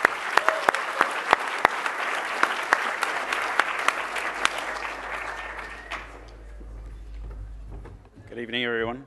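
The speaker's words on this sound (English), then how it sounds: "Please give Stafford a big round of applause" Audience applause at an awards ceremony for a doctor-in-training award, a dense burst of clapping with a few sharp claps standing out, fading after about six seconds into room murmur before a voice begins speaking near the end.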